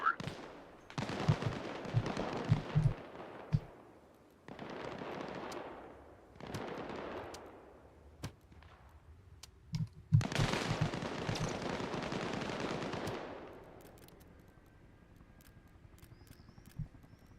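Gunfire in an Arma military campaign battle: rapid bursts of automatic fire and single shots in loud clusters separated by pauses, with a long sustained burst near the end before quieter echoing tails; no talk.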